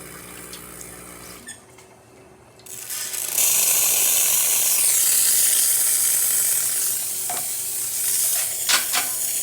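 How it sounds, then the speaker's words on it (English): An espresso machine's steam wand hisses in a loud, steady, broadband rush that starts after a quieter stretch with a few clicks, holding strong with slight fluctuations to the end. "Steam for this machine is nice and steady, excellent pressure, really great steam."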